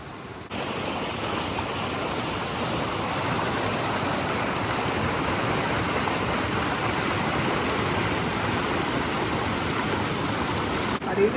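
The stream below Daringbadi waterfall flows in a steady, loud, close rush of water that holds evenly for about ten seconds.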